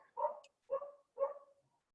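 A dog barks three times indoors at an even pace, moderately close and alone, with brief quiet gaps between the barks.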